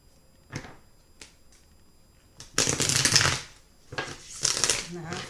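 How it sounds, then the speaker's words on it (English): Tarot card decks being shuffled by hand, a few soft flicks at first, then two loud bursts of riffling cards close to the mic. "but I will shuffle them again to make sure the intention is there"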